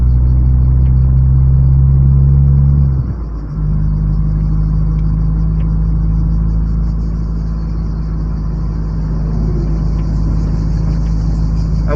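A car climbs a road toward Argyrades, its engine a steady loud rumble up close that shifts gear partway through, then carries on at a lower, even drone.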